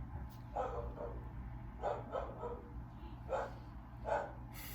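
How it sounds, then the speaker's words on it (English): A dog barks repeatedly somewhere off in the background, four or five separate bursts spread unevenly over a few seconds, faint against a low steady hum, with no talking. "There's the dog again."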